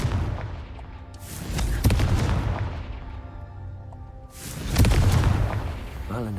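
A fire spell cast in a video game sets off two heavy booming explosions a few seconds apart, each followed by a rumbling decay.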